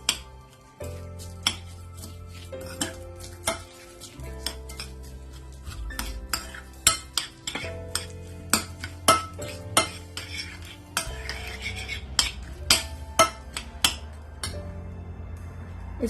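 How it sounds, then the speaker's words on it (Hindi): A metal spoon stirs yogurt into a cooking pot for chickpea pulao, giving repeated sharp scrapes and clinks against the pot at an irregular pace over a low background hum, with no talking. "इसको अच्छी तरीके से मिक्स करूंगी।"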